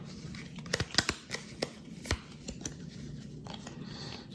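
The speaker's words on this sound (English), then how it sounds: "we shuffle all of these up" A deck of board game cards is shuffled by hand, giving a run of sharp riffling snaps and slaps, close and fairly loud, with quieter rustling between and no talk.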